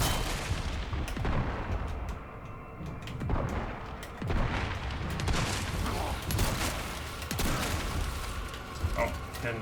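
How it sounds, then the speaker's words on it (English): Grenade blast in Resident Evil 4 Remake during a hardcore fight: a dense run of booming, crackling explosions and gunfire-like bursts that keeps a loud, busy battle texture going throughout. "Throw the grenade."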